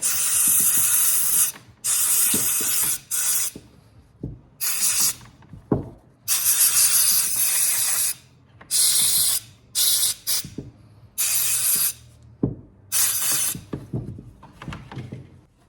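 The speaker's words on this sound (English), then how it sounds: "first thing we'll do is just spray it off." Repeated loud bursts of aerosol cleaner hiss onto a Husqvarna 136 chainsaw carburetor in short and longer blasts, separated by quiet gaps with small clicks and handling noises.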